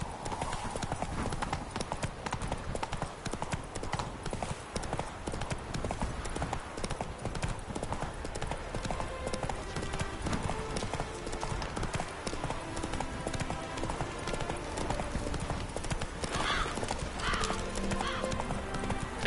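Horse hooves clip-clop steadily at a riding pace through The Witcher 3: Wild Hunt, a continuous rhythmic clatter of close hoofbeats over a breezy evening ambience, with someone talking over it.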